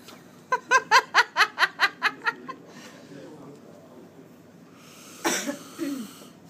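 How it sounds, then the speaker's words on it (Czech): A woman gives a rapid series of about eight short, close coughs in a steady rhythm, then a quieter pause and a brief burst of breathy noise near the end. "Mám kašlíček."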